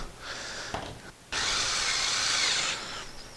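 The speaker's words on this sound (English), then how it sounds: "I'm going to use a drill instead of a screwdriver." Power drill driving screws into pressboard panels of an IKEA Pax wardrobe during assembly, a short whir, a pause, then a steady loud motor run of about a second and a half, close up, with no voices.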